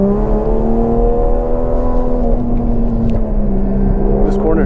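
Toyota JZX100 driven at a G1GP drift competition, engine droning steadily at high revs from inside the cabin with a slight pitch drop and rise as the car transitions between corners, loud and continuous.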